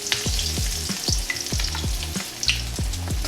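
Breaded grit cakes fry steadily in hot oil in a cast iron skillet, a continuous close sizzle broken by regular bubbling pops and light scraping sounds, with no voices.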